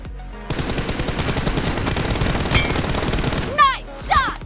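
Rapid automatic gunfire in a mobile shooter game, a dense steady stream of shots lasting several seconds, followed by a couple of sharp tonal effect sounds near the end.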